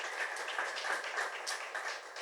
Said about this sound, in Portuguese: Pode aplaudir o nosso Deus bem forte